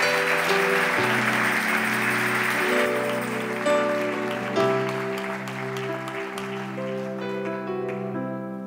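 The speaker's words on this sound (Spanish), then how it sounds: "Denle un aplauso al Señor, denle un aplauso al Señor" A church congregation applauds during worship while music plays, sustained clapping over held organ or keyboard chords that shift a few times and fade toward the end.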